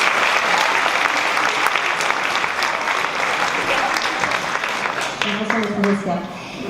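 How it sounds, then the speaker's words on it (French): Audience applause at a high school theatre show, loud sustained clapping from a crowd that thins toward the end as a voice starts speaking over it. "Donc on peut l'applaudir aussi"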